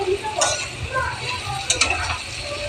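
Potatoes frying in a pan for aloo posto, with a continuous low sizzle and scattered scraping stir strokes and clinks of a spatula against the pan, close and steady throughout.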